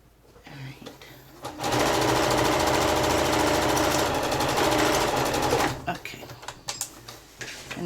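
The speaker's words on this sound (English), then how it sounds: "we're going to be sewing seam allowances on this" A sewing machine stitches the seams of a zipped, lined quilted tote in one loud, steady run of about four seconds, with quieter handling sounds before and after.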